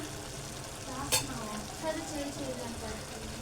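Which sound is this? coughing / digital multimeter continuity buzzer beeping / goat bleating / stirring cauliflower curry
stirring cauliflower curry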